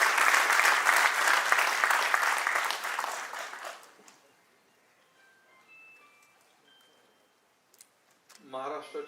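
Audience applause greets a guest at a Maharashtra Chamber of Commerce centenary ceremony, a dense loud burst of clapping lasting about four seconds before fading to near silence, then a voice starts speaking over a hall PA.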